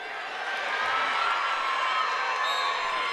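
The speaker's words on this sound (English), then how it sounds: "There's a roar crowd." Crowd roars at a high school wrestling semi-state at a coliseum, a loud, sustained wash of voices and cheering that swells slightly and holds steady throughout.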